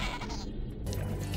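Sheep bleating in the PS1 game Spyro 2: Ripto's Rage, a short, fairly loud bleat standing alone over a busy game soundtrack, with no one talking.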